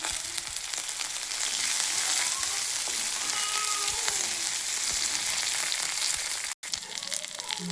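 Green chillies and curry leaves fry in hot oil for masala chana, a steady dense sizzle running the whole stretch with one brief cut near the end and no talking.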